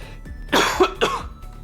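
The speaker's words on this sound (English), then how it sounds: "I have to cough" A single person coughs twice in quick succession, close and fairly loud against a quiet room, with a brief throat sound between the bursts and a soft hum underneath.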